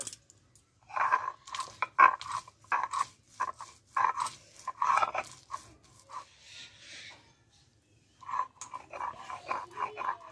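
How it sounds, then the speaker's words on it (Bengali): A kitchen grinder pulses in short bursts while cashew nuts are ground into a paste, with several loud rattling spurts separated by pauses. "আগে কাজুটাকে বেটে নেব।"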